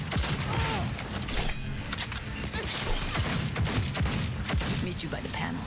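Gunfire in the video game Cyberpunk 2077, a dense, continuous burst of rapid shots and clattering impacts filling the whole stretch, loud and close, mixed with voices talking throughout.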